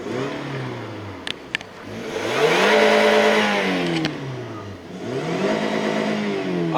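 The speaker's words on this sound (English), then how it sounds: "See how she sounds if we rev her a little bit." A high-mileage Toyota Camry engine with about 320,000 miles revs up from idle in several rising and falling sweeps, close and loud, with a couple of sharp clicks early on.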